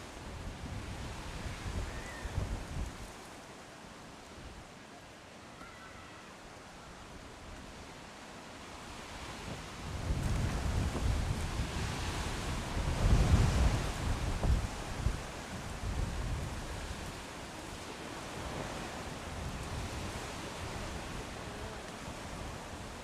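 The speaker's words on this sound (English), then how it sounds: "Now the wind is gusting" Outdoor wind gusts at a lawn bowls tournament as broad, rushing noise that swells in strength around the middle and then settles into a steady background rush.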